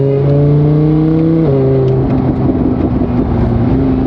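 Lamborghini with a straight-piped exhaust revs loudly and close up, a deep sustained engine roar that holds, then steps down in pitch and settles into a rough, rumbling idle.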